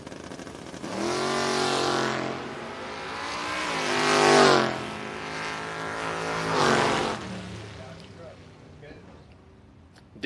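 Drag racing run between an Omni Charger and a wheel-standing Valiant Wagon: loud engines roar and rise in pitch through several upshifts, then fade away as the cars pass, with a track announcer talking over them.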